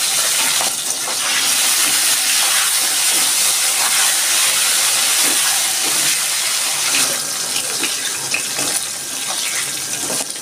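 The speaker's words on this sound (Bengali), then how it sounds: "আমার তেলটা গরম হয়ে গেছে আমি ভেন্ডি দিয়ে দিচ্ছি" Steady, bright hiss and crackle of okra frying in hot oil, continuous and fairly loud throughout with no voices.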